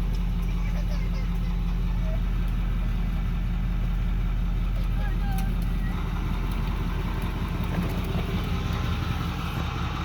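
A 2008 6.4-liter diesel truck engine idles steadily with a low, continuous rumble, close and constant for the whole stretch, with faint background sounds and no talk.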